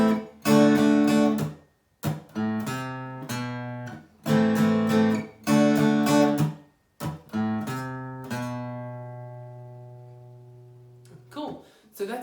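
Guitar playing the verse riff of a song, with bursts of strummed chords and light string hits separated by short pauses, then a long ringing chord that fades, played alone and close.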